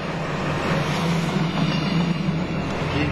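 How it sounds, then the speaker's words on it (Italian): A diesel train engine rumbles steadily at a station, a loud broad continuous drone with rail noise and no voices. "Tipico rumore diesel da treno,"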